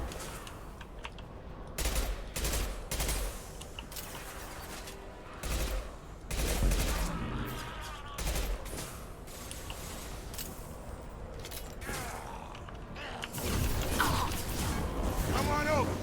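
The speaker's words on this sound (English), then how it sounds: "Firing concussive shot." Rapid bursts of gunfire and heavy concussive shot blasts from Mass Effect 2 hit loud and close in uneven volleys, with combat voices calling out between the shots.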